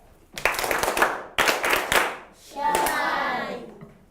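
Schoolchildren in a literacy project class clap for a young reader: two brisk bursts of close, crisp hand claps separated by a short pause, then children's voices chatter and talk.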